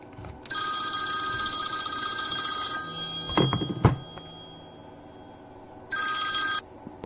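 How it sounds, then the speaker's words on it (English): A mobile phone rings loudly in an electronic trill, one long ring burst followed by a shorter one, with a couple of thunks between them from work on an iPhone XS Max screen. "Customer's phone was ringing."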